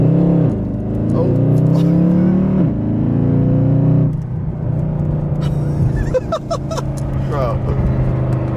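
A Mercedes W204 C63 fitted with a full valved exhaust pulls hard on a wet road, its deep engine roar climbing in pitch through the gear, loud and close, with people talking over it.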